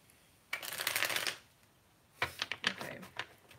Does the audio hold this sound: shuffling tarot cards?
yes